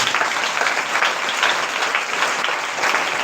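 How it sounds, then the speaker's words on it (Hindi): Sustained congregational clapping at a Sunday prayer meeting, an even, fairly loud patter of many hands continuing throughout without speech. "ताली बजाओ परमेश्वर"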